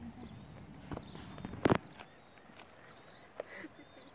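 Horses walking on a beach, with a few soft hoof clops and footfalls, one louder thud near the middle, under light talk and outdoor ambience.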